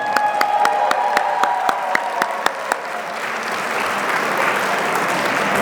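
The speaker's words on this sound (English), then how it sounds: "Can we give our students a round of applause?" A gala audience applauds students, starting with a few distinct sharp claps in a steady rhythm that swell into dense, continuous applause from a large crowd.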